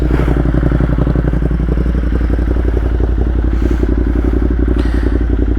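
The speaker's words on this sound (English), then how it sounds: "Got the bike warming up." A Ducati Monster 1200S idles while warming up, a steady loud engine rumble with fast pulsing firing beats, running continuously and alone, with a faint clatter over it.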